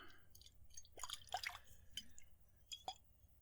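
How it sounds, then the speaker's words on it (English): Water sloshing and dripping inside a glass bottle, with soft wet splashes and trickles in a few brief bursts, quiet and close. "Seeing the way that this splashes around inside this glass"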